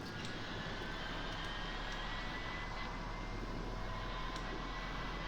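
Jet airliner engines run with a steady, broadband roar and whine in a flight simulator game, continuous and even in level for the whole stretch, without talk.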